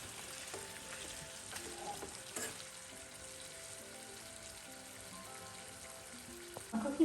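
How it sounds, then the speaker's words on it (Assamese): Chicken fries slowly in a pan over a low flame, giving off a faint, steady sizzle with occasional soft stirring sounds and no talking. "একদম লো ফ্লেমত আমি ভাজিম"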